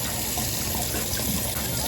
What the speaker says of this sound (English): I'm gonna just like put some water on my face so I can rinse it.